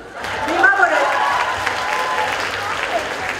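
An audience applauds in a hall at a radio station launch event, dense sustained clapping with crowd noise, while a presenter speaks over it.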